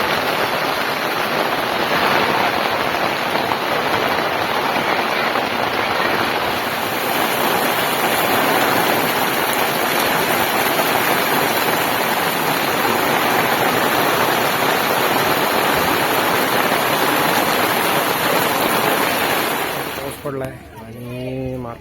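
Heavy unseasonal pre-monsoon rain pours steadily in the countryside near farm fields, a dense, loud, continuous hiss of large drops that cuts off abruptly near the end.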